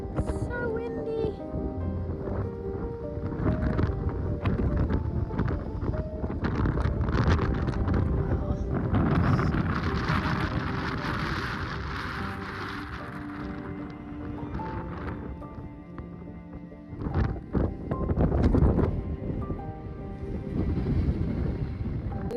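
Strong wind blows across a hilltop in a hexagonal Sicilian town, a constant low roar of buffeting on the microphone that swells into a louder gust near the end.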